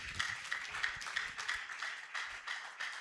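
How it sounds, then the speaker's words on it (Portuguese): A church congregation claps in praise of Jesus, a steady run of many hands applauding at moderate distance, with bright, rapid, slightly uneven claps that fade a little near the end. "Vamos dar uma linda salva de palmas ao Senhor Jesus."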